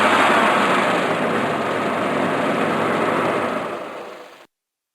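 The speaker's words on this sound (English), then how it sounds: "Truck," A truck engine rumbles steadily at a loud, close level with a broad, noisy roar that holds for several seconds before fading and cutting off.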